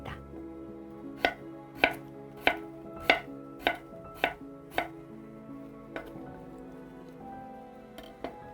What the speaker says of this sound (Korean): 작은 감자 하나를 제가 잘랐어요.